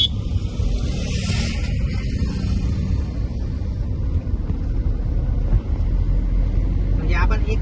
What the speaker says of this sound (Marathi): आता आपण हळूहळू डाऊन शिफ्ट करतोय, म्हणजे कमी कमी गिअर करतोय.